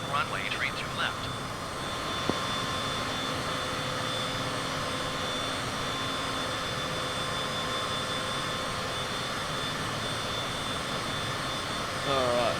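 Airliner jet engines drone steadily on a landing approach in Microsoft Flight Simulator, a continuous loud whine and rumble with a faint tone, briefly broken by a radio voice at the start and end.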